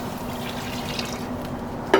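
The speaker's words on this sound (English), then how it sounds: "So I went in with the water." Water poured into a pot of roast corn soup, a steady low wash and trickle running throughout, with a brief louder splash near the end.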